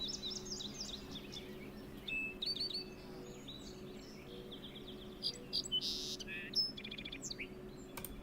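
Many birds sing outdoors in Ohio in overlapping chirps and trills, some bright and close, others fainter, all over a low steady background hum.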